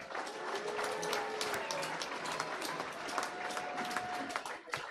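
A church congregation breaks into applause, a dense, steady wash of clapping that holds for the whole stretch, with voices mixed in underneath.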